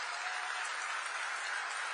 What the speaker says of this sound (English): Please, a big round of applause for the President of the United States of America